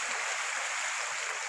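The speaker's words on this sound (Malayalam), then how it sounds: "അപ്പോൾ അതാണ് നമ്മളവിടുത്തെ പുഴ." A river flows with a steady, broad rushing hiss of moving water, even and unbroken throughout, heard from nearby.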